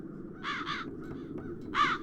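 Crows in the video game The Dark Eye: Chains of Satinav give harsh caws, a quick double caw then a single louder one, over a low ambient rumble.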